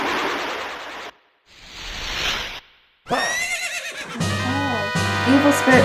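A horse neighs in the video game The Legend of Zelda: Ocarina of Time during the Phantom Ganon encounter, a loud whinny among game sound effects and music, with brief silent gaps.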